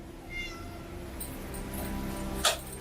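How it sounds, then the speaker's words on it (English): A cat meows faintly a couple of times under a steady background hum, with a sharper brief cry near the end. "Oh, that's a cat."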